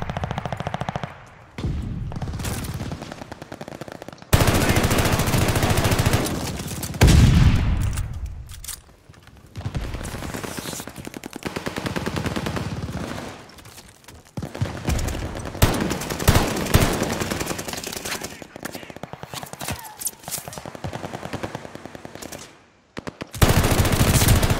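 Dense automatic gunfire in a 24-versus-24 Call of Duty: Vanguard multiplayer match, with loud sustained bursts, short pauses and occasional booms throughout, and no voices.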